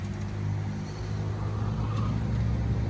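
Idling engine of a Dodge Hellcat after a burnout, a steady deep rumble close by with no voices.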